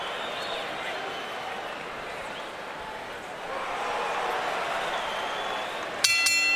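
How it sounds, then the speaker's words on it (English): An arena crowd at a boxing event murmurs and swells in reaction to a replay of a punch, a broad steady roar building slightly midway before a brief sharp noise at the end. "Crowd responding to the replay here in the arena"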